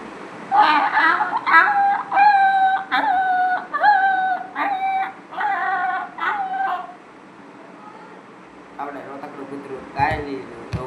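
A person imitates a crying dog, giving a run of rhythmic whimpering, yelping cries that rise and fall in quick bursts, close and loud, then a short quieter pause before a few more whines.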